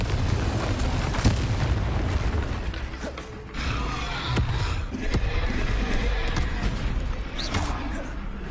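Spell blasts in Hogwarts Legacy, several booming explosive bursts and crashes layered over a dense, loud game soundscape, with sharp impacts recurring every second or two.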